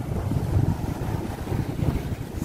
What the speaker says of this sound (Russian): Сегодня у нас ветрено